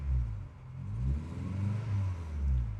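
A Subaru Impreza WRX with an EJ22 engine idles low and uneven, a deep, rumbling, pulsing drone that rises and falls slightly, heard close and alone.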